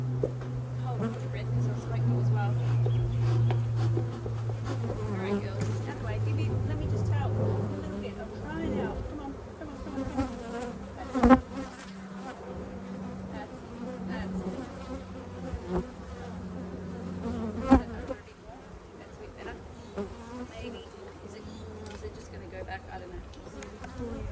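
Honeybees in a top bar hive buzz in a steady low drone throughout, with occasional thumps and handling noises and a person talking intermittently nearby.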